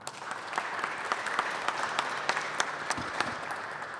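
Moderate applause in a church at Mérignac during a parish talent show, a smaller audience with individual claps standing out against a softer background of clapping, fairly quiet and steady.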